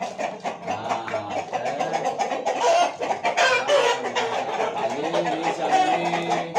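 Several contest chickens cluck and squawk up close in quick, overlapping bursts, with chatter in the background.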